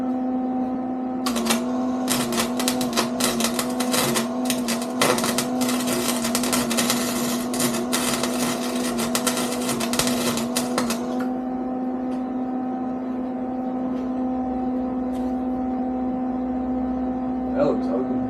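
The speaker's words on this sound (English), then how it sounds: "I think I'm just welding onto the" Welding on a motorcycle trailer gives a close, loud crackling sizzle over a steady electrical hum for about ten seconds, then stops and leaves only the hum and faint shop noise.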